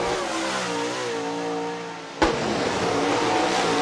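Late model race cars roaring past at Rapid Speedway, a loud sustained engine drone with shifting pitch as the cars run the backstretch, a sharp burst partway through, then the roar continuing.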